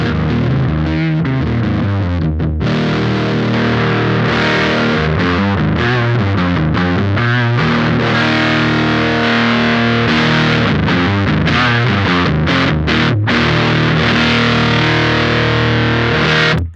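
Electric guitar played through a Champion Leccy pedal on its low setting, giving a loud, continuous distorted tone with strummed chords and sustained notes and no talking.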